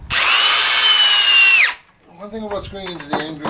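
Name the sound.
power drill driving screws into wood end grain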